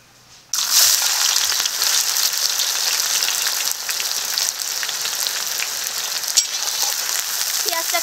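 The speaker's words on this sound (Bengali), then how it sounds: "এখন দিয়ে দেবো পেঁয়াজ কুচি" Chopped onions hit hot oil in a pan with cumin and bay leaf for chicken curry, bursting into a loud, steady sizzle that starts suddenly and holds evenly, close up, with no talk.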